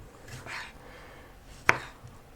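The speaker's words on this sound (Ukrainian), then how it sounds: "Мені всі овочі треба подрібнити, але можна не дуже там дрібнити прямо." A knife chops vegetables on a board for a tomato sauce, mostly quiet kitchen ambience with one sharp, distinct cutting strike standing out near the end.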